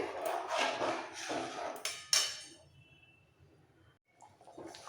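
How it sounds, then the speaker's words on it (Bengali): Water is poured into chickpea dal in a hot pressure cooker, a loud rushing splash for about two seconds, then quieter bubbling and faint stirring scrapes. "একটু জল মিক্সড করে সব জলটা এই সময় দিয়ে দিচ্ছি ভালো করে ফুটতে দিতে হবে"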